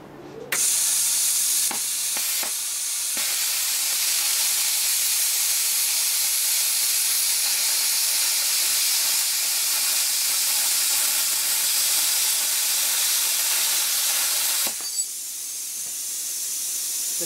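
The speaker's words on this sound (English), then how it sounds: "Plasma switched on and it's set at 38, whatever that means." A Stahlwerk 55 plasma cutter set at 38 cuts thin sheet metal around 4-5 mm thick with a loud, steady broadband hiss that runs unbroken for about 14 seconds. It starts and stops abruptly, with a few brief crackles near the start.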